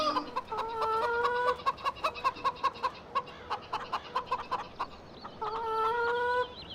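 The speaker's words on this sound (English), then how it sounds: "Here comes our rooster." Rooster in the video game Farming Simulator 17 gives a run of loud, close clucks, then a drawn-out, tonal crowing call at the start and again near the end, with no talk over it.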